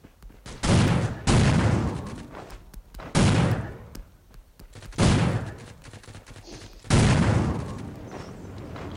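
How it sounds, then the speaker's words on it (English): Loud, close bursts of automatic gunfire in Rules of Survival, four or five separate volleys with brief pauses between them, each a dense rattle of shots that trails off before the next. "the recoil is horrible on this gun"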